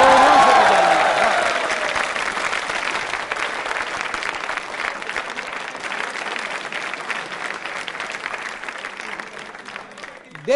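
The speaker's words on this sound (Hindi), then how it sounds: "चेतन जी के लिए तालियां जोरों से बजाएं।" Sustained applause from a quiz show audience for contestant Chetan, loud at the start and then holding steady as dense, even clapping for about ten seconds with no talk over it.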